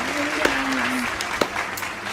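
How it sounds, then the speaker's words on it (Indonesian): Applause during an online exam prayer night service, a brief continuous wash of clapping with a voice faintly present underneath. "Mari beri tepukan yang gemuruh bagi Tuhan Yesus Kristus kita"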